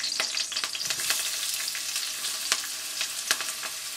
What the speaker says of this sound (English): Into that oil, I'm going to put in my curry leaves. And I'm going to add the onion.